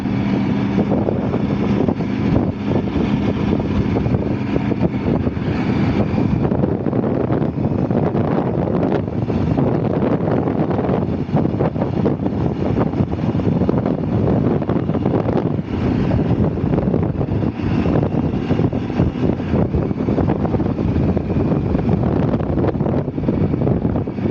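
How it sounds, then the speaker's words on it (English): Strong wind over a river bridge in Portugal roars and buffets the microphone without pause, a loud, constant rush across the whole stretch. "quite windy today"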